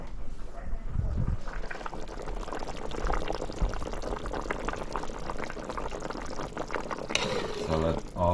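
Pot of fried snapper stew with aloo bubbling on a home stove, a continuous close bubbling and sloshing of liquid with some clatter and a voice speaking over it.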